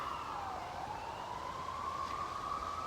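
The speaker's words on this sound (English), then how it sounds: "I don't know what's happening out on the highway next to me here, but lots of sirens going by." Emergency vehicle sirens pass on a highway, one steady wailing tone sliding slowly in pitch, fairly distant and faint over constant traffic rumble, with no talking.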